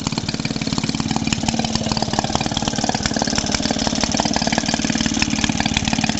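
Small engine of a Maytag Model 72D washing machine running steadily with a rapid chugging rhythm and intermittent pops and bangs, close and loud with no talking.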